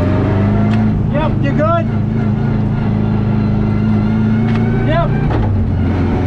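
A Subaru GC8's engine is held steadily at a 3500 RPM rev limiter, making a loud, continuous droning buzz that barely wavers, while people talk briefly over it.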